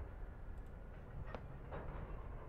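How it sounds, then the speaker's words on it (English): A Harry Potter train rolls by quietly, a faint steady rail rumble broken by a couple of soft clicks. "There's a Harry Potter train."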